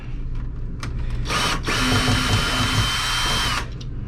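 A power drill backs screws out during a repair on a Cedar Creek 38EBS camper. A short whir is followed by a loud, sustained motor whine lasting about two seconds, close by.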